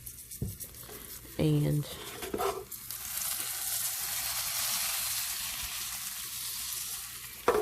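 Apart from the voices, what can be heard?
codfish cakes pan frying in butter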